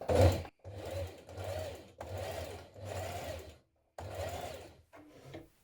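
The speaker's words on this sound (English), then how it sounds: "from the right side we're going to top stitch it 3mm from the edge" A sewing machine top stitching a dungaree facing 3mm from the edge, running in five steady bursts of even whirring with brief pauses between them, close and clear with no talk.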